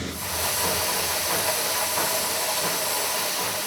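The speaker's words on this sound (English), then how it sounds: "Did you hear the sound the machine made when it squashed the rubber nuggets into half balls?" A steady, loud hiss like escaping steam from a rubber press machine squashing rubber nuggets into half balls, continuous for several seconds with no pauses.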